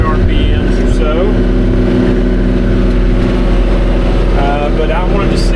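A car engine held at roughly 2,500 RPM while the car creeps along slowly, giving a loud, steady, continuous drone with no clear rise or fall.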